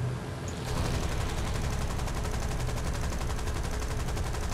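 Sustained rapid gunfire from the War Thunder combat game, a dense continuous burst of automatic shots filling the clip at steady loudness with no talk.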